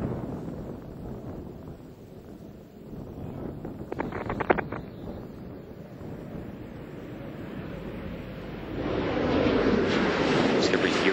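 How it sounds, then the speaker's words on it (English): Space Shuttle Discovery gliding on final approach to landing at Kennedy Space Center, a steady distant rumble with wind noise that swells louder toward the end, with brief crackling bursts midway. "Space Shuttle Discovery now on final approach to the Kennedy Space Center."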